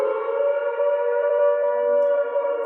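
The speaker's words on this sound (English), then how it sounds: "Why is the siren going off?" A siren wails in a steady, sustained tone, loud and close, holding one pitch for the whole stretch with no talking.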